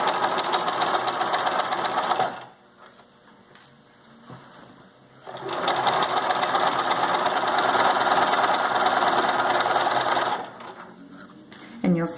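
A sewing machine stitching a fabric casing runs in two loud, steady whirring bursts of rapid mechanical chatter, separated by a quieter pause with faint handling noises.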